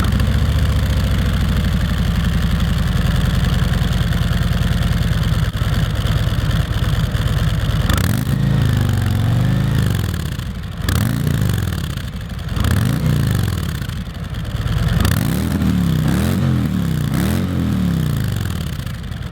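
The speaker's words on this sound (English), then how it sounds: "we're now going to do the sound test for the Road Glide Special" A stock, unmuffled 2019 Harley-Davidson Road Glide Special engine idles with a loud, deep, steady rumble close by, then blips the throttle several times in rising and falling revs.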